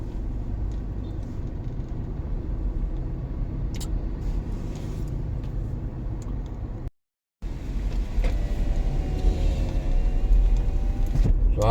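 Low, steady engine and road rumble of a car driving through city traffic in Manila, with a brief cutout midway, then a faint rising whine and light clatter; no talking.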